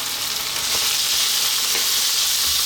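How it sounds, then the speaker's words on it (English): Finely chopped onion with garlic and ginger frying over a lively heat in a pan for an eggplant potato curry, giving a steady, close, continuous sizzle with a few soft stirring bumps. "As you can hear, we're on a fairly lively heat."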